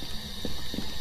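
A cabinet door in the ghost-hunting game Phasmophobia swings open on its own, giving two short mechanical creaking clicks over a steady electric fan hum.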